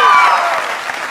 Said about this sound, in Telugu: పిలిచేద్దాం గట్టిగా చప్పట్లతో